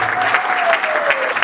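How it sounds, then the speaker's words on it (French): Audience applause at an awards ceremony for ministers and officials, a short, dense spell of crowd clapping with a faint tonal hum running beneath it. "Applaudissez ça"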